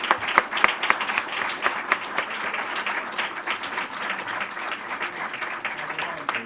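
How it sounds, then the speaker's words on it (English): Audience applause at an awards ceremony as Trish, Rosario and Sandy come on stage: sustained clapping from a crowd with a few sharper individual claps near the start, with no talk over it. "So big round of applause, please."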